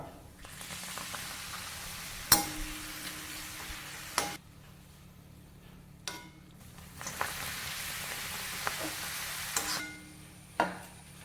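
Papadums crackle and sizzle in hot oil in bursts, with sharp clicks of a utensil between batches and quieter pauses.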